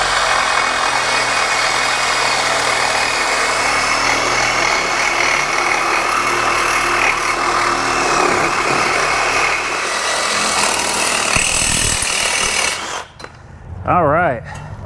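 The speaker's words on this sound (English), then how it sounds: "I'm gonna try to cut through this crash bar here" A Sawzall reciprocating saw grinding steadily and loudly through the crash bar of a flood-damaged 2013 Dodge Dart for about twelve seconds, then stopping, followed by a short revving burst of the saw.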